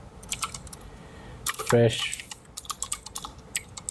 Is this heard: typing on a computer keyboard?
yes